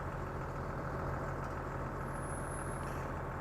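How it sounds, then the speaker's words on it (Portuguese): A tractor engine runs with a steady low rumble as its hydraulic arms raise a KW spreader into transport position; a thin high whine rises briefly partway through. "acionando o comando do trator, colocamos o nosso espalhador em posição de transporte, suspendendo através dos braços hidráulicos do trator."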